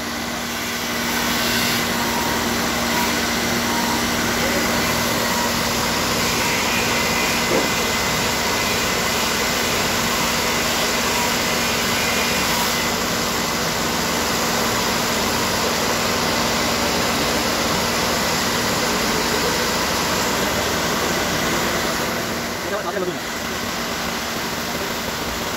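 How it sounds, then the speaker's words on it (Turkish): Bicycle parts being prepared for copper plating are sanded with a power sander or grinder, giving a steady, loud, continuous whir with no pauses for about twenty-five seconds. "Bu işlem zımpara beyler."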